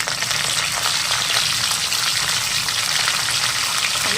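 Small shallots, garlic cloves, dried red chillies and curry leaves fry in oil with a dense, continuous crackling sizzle, close and fairly loud, steady from start to finish with no talking.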